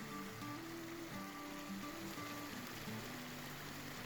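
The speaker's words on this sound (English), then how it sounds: "Here's the other end of that creek." A mountain creek tumbling over a series of little step-downs on a trail to Dorothy Lake, a steady close rush of water with a faint tonal hum underneath, no voices.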